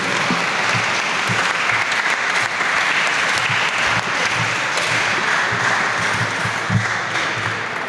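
Sustained audience applause fills a Hispanic Heritage Month opening ceremony as an award is presented, dense and steady clapping from a crowd lasting nearly eight seconds, loud and close, with little talk over it.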